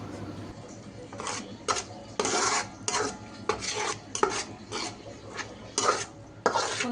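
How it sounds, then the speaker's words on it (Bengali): Sliced onions soften in oil in a pan as a spatula scrapes and stirs them in repeated rough strokes, with steady frying noise in the background. "এবার পেঁয়াজগুলোকে সফট বা নরম আকারে ভেজে নিব"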